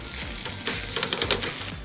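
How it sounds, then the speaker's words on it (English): Day-old jasmine rice stir-fried in a hot pan with doubanjiang, spicy sausage, garlic and ginger gives a steady, close sizzle with crackling bursts and scraping as clumps are broken up. "Listen to it sizzle."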